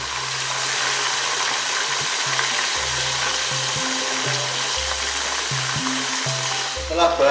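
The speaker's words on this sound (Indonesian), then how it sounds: "kita tunggu bahan yang telah kita goreng ini sampai kering atau sampai berubah warnanya menjadi kuning-kuningan." Herbal ingredients frying in oil to make a massage oil, giving a steady, even sizzle that continues throughout with a faint low hum underneath.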